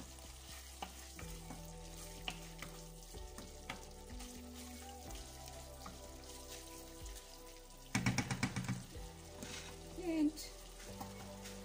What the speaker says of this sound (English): Beef cooking very well.